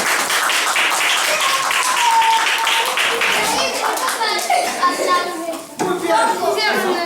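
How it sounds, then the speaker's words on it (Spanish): Children and adults clap together at a Christmas visit from Santa to a first-grade class. The clapping is brisk and close, mixed with children's voices and chatter throughout. "aplauso para los chicos"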